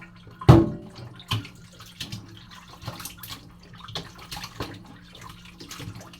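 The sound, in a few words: washing food thoroughly under running water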